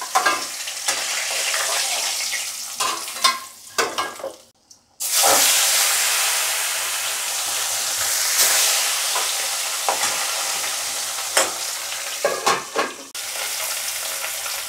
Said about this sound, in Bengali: মাছগুলো একটু লাল করেই আমি ভাজবো।